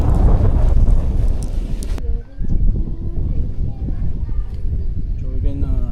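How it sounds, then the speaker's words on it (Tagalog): Strong wind at a beach rumbles hard across the microphone in a steady roar, with a family talking over it at close range. "Oh, ang lakas ng hangin."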